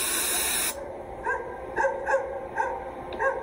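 A dog in an anime scene gives a series of short yelping barks at steady intervals, mid-distance and moderately loud, after a burst of hissing noise stops abruptly.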